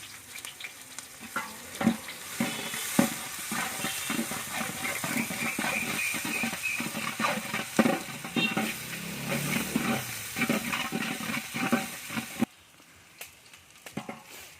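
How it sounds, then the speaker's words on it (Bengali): Onions frying in oil in a pan for chicken biryani, a dense steady sizzle broken by repeated scraping stirs, close and loud, dropping to a quieter sizzle for the last couple of seconds. "পেঁয়াজটা ভাজা হইতেছে, একটু ব্রাউন কালার হলে আমরা পেঁয়াজটা নামিয়ে ফেলবো"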